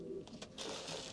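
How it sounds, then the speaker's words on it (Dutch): Homing pigeons at a racing loft coo softly and close, in a brief low murmur under a steady background hiss. "De duiven van de familie van de Velde horen tot de top van Groningen."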